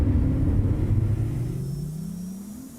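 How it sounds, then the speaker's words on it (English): A spaceship engine in Star Citizen spools up with a loud, deep rumbling roar that sweeps downward and fades over a few seconds, heard alone. "When it revs up like that, it sounds like a really powerful engine"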